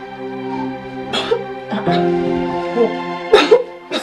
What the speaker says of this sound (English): Why are you coughing like this now?